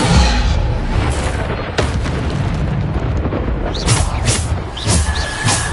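Repeated Bombarda blast spells from Hogwarts Legacy, loud booming explosions with sharp bursts layered over a constant roar of battle noise, several impacts landing close together.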